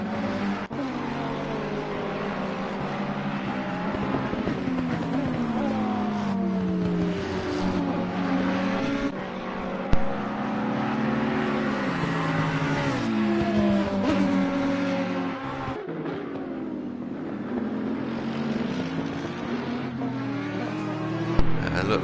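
Race cars lapping Catalunya in a close pack, including the number 7 McLaren, their engines roaring continuously nearby with rising and falling revs through gear changes over the whole stretch.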